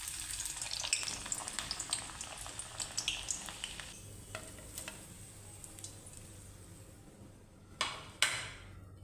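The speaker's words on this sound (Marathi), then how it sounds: "हे पहा, असं सालीसह हा घातलेला आहे लसूण, त्याला आपण छान असं तळून घ्यायचं आहे।" Whole garlic cloves in their skins fry in oil for Mumbai-style vada pav, a soft, steady sizzle with light crackles and a few sharper taps and spatula clicks near the end.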